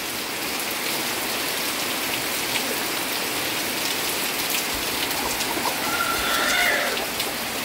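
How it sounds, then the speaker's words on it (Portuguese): Heavy Brazilian thunderstorm rain pours steadily in a dense, constant hiss with no break and no talking. "Agora aqui é chuva forte mesmo, viu?"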